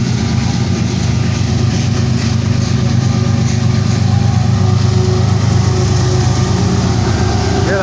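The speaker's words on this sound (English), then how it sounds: "Hear that engine working." A freight train's pushing DPU locomotive engine labors hard with a loud, steady diesel drone and rumble, rolling close by without a break.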